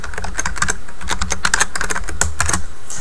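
Fast, close-up typing of a password on a computer keyboard: a dense, uneven patter of crisp key clicks running steadily for about three seconds with no voices.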